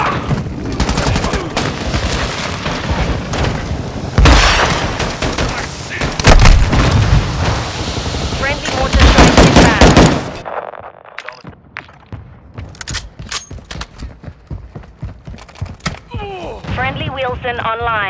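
Airstrike blasts and gunfire in Call of Duty: Modern Warfare II, loud dense booms and rapid shooting for about ten seconds, then quieter scattered shots and distant rumbles with occasional voices.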